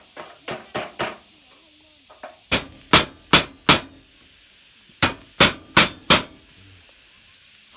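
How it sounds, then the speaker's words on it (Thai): Sharp metallic hammer strikes nail corrugated metal roofing sheet in bursts of three or four quick blows with pauses between, ringing close and loud with a tinny edge. "เอามาเอาสังกะสีอีกมาตอกใส่"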